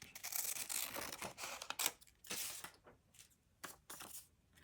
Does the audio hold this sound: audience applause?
no